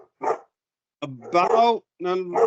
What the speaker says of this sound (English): I think my dog is home. That's why he's barking.